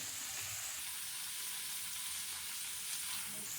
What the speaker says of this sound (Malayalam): ഇനി നമുക്ക് ഈ വേവിച്ച് വെച്ചിരിക്കുന്ന, അതായത് 1/4 ഭാഗത്തോളം വേവിച്ച് വെച്ചിരിക്കുന്ന ഉരുളക്കിഴങ്ങ് ചേർത്ത് കൊടുക്കാം